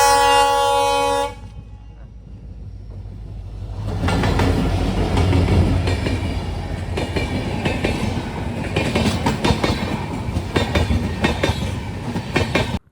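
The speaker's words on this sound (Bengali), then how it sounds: "অপূর্ব লাগলো ট্রেন যাওয়ার দৃশ্যটা।" A train passing near a hill station, opening with a loud sustained horn blast, then a brief lull before heavy rumbling wheels and rhythmic clickety-clack of the wagons build close and loud.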